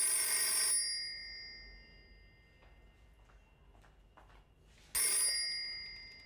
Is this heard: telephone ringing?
yes